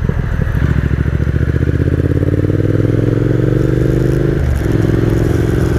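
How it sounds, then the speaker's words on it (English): A 2019 Triumph Speed Twin motorcycle ridden on British roads, its twin engine thrumming loud and close with steady pulsing rhythm and a brief dip in revs near the end, no voices. "I'm really thrilled to be riding a British bike in Britain"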